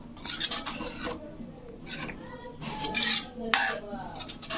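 A spoon scrapes and clinks against a pan, mixing pav bhaji with salt in short, irregular bursts of metallic stirring, close and fairly quiet.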